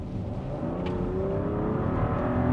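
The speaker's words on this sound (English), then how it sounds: "the exhaust note, of course, is not as, you know, loud like it is in X3 M40i, but you can still hear it" Steady engine drone from a 2024 BMW X5 40i inline six-cylinder exhaust in Sport Plus mode, a continuous low rumble with rising pitch under acceleration, moderately loud and without talk.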